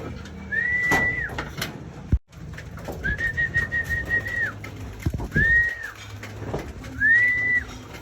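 Racing pigeons coo and whistle in several drawn-out calls, with a single sharp knock partway through and faint outdoor background noise.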